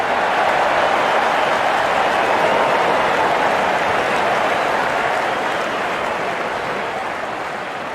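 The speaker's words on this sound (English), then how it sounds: "Wonderful 50 and the crowd applauds." A cricket crowd applauds a batsman reaching his fifty in an RCPL match, a dense, steady roar of clapping that fills the stadium throughout and fades slightly toward the end.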